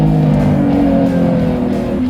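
A Lamborghini Revuelto with a naturally aspirated 6.5-litre V12 roars steadily under hard acceleration, a loud, dense engine tone with rising harmonics filling the whole stretch, close and continuous.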